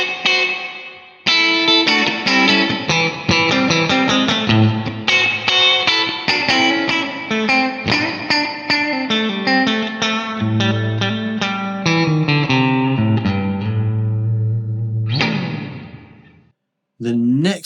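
Electric guitar run through delay from a Line 6 DL4 MkII pedal, with clean picked notes and chords whose echoes repeat and trail off, ending with a short strum.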